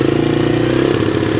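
A Suzuki Z400 ATV engine runs at a steady idle, a loud, close, even mid-pitched throb with no speech over it.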